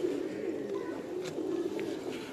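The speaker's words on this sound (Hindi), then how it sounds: "शौक करवा रहे हैं आपको इंतहाई शानदार कबूतर उस्ताद वसीम साहब के" Pigeon cooing from a high-flying pigeon breed, soft and steady, close by and alone with no talk over it.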